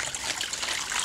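Water pours from a watering can onto flowers, a brief, close, bright splashing trickle with no talk over it.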